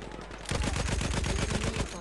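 Rapid automatic gunfire from a Battlefield 1 match, a dense burst of close, loud shots starting after a brief quiet lead-in and rattling steadily for well over a second before stopping.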